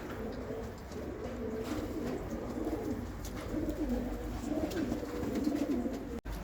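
Pigeons coo steadily in soft, overlapping low calls amid a continuous background hum, with birds kept in a loft of colourful fancy breeds; no talking is heard.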